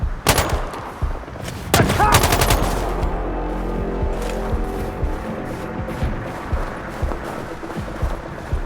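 Bursts of automatic gunfire ring out in the shooter game Sniper Ghost Warrior Contracts. A loud rapid volley comes early, then sharp shots crack over a continuous rumbling combat background, with brief shouting voices mixed in.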